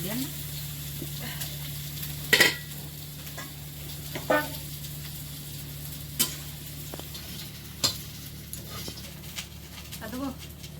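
Eggplant fries in oil in a pan and is stirred, with a low steady sizzle broken by several sharp scrapes of a spoon against the pan.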